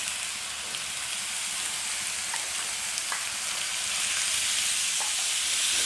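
Minced keema meat sizzles and fries in masala in a pan, with steady crackling and occasional stirring scrapes, close and loud, no voices.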